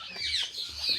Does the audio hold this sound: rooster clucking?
yes